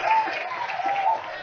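An audience applauds to welcome Sajith Premadasa onto the stage at an election rally: dense, steady clapping fills the short moment, with a voice faintly mixed in.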